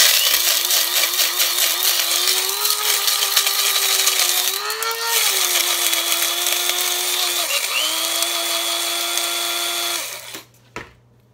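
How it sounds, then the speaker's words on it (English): Electric spice grinder whirring as it grinds eggshells, a loud steady motor whine that dips and rises as the load shifts, running for about ten seconds before abruptly cutting off. "I use a spice grinder to grind up my eggshells"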